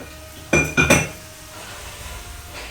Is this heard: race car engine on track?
no